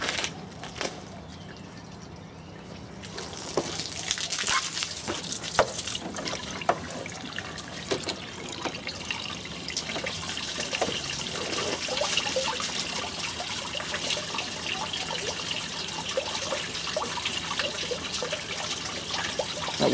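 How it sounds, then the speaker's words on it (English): Water gushes and trickles continuously at close range as it flushes through a Mk2 Volkswagen Golf's top radiator hose, starting softer and swelling into a steady rushing flow that holds for the rest of the clip. "now what we need to do is flush out the actual top hose of the radiator."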